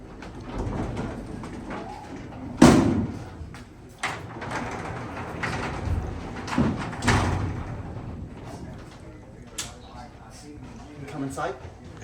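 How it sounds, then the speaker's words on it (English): A 1969 Westbrook freight elevator door opens with heavy thuds and a sliding rumble, one loud clunk early, then scattered knocks and clatter while a voice talks over it. "I'm gonna open the door."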